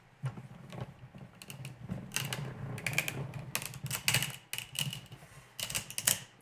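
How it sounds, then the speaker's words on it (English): Embossing plate passed through a Cuttlebug machine, a quiet, dense stream of crackling, clicking and creaking snaps with a low rumbling mechanical undertone throughout. "it sometimes makes a cracking noise when you pass it through the embossing, through the Cuttlebug"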